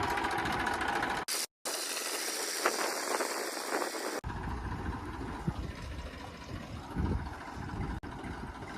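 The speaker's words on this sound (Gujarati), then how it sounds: "જો ભાઈ ટ્રેક્ટર ચાલુ થઈ ગયું હોય" A farm tractor's engine runs steadily after starting, a continuous rough mechanical drone heard up close with a couple of brief dropouts and a sharp break partway through.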